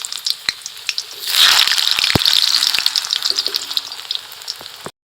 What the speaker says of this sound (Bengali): এবার আলুগুলোকে ভেজে দেব।